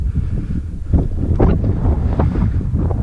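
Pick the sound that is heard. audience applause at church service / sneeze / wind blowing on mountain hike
wind blowing on mountain hike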